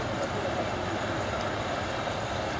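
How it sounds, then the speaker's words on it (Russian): A steady, rumbling roar of a passing train hauling wagons, continuous and fairly distant, with faint voices in the background. "поезд. Ну такой, который перетаскивает несколько вагонов."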